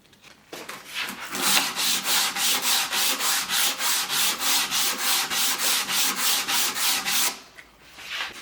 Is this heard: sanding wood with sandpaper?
yes